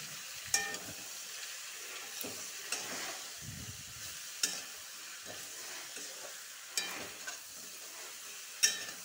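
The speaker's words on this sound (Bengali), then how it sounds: "পরিমাণ মতন নুন দিব, পরিমাণ মতন হলুদ দিব। ভালো করে নাড়াচাড়া করে দেবো।" A utensil stirs fish curry with salt and turmeric in a pan, giving a soft background sizzle broken by regular scraping strokes and taps about every second or two.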